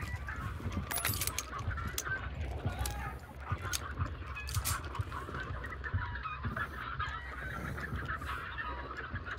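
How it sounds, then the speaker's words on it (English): Chicken clucking and squawking in the game Hunt: Showdown, busy repeated calls over a noisy ambient background for the whole stretch. "Chicken, stop making noise."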